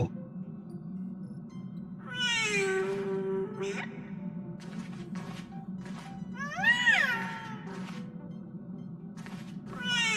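Two cats meow in the video game Honkai: Star Rail, a rising, drawn-out call and then a louder wavering one several seconds later, over a steady low game ambience with no talk.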